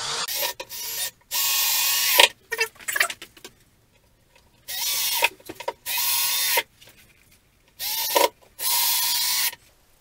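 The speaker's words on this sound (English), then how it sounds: "I'm just going to screw the plate into the actual box itself." A screw is driven into a plate on a box, heard as several loud, close bursts of steady whirring, each lasting about a second, separated by quiet pauses and softer clicks, with no talking.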